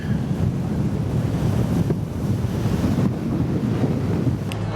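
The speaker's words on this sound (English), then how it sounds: "It's super windy up front" Strong wind roars steadily against the microphone on an open boat deck cruising the Bosphorus Strait in Istanbul, with a constant low rumble and washing water beneath, no voices.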